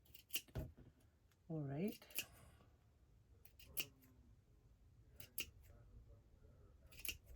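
Scissors snip through felt for a flower centre, several sharp isolated cuts spaced irregularly and close up, with a brief spoken remark partway through.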